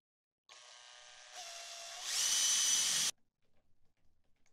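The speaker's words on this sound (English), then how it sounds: "drill a pilot hole, and dry the screw." A power drill whirs steadily while driving a screw into a pilot hole in a wooden rub plate for a homemade table saw fence, the motor pitch stepping up twice before the loudest final burst, followed by a few light taps.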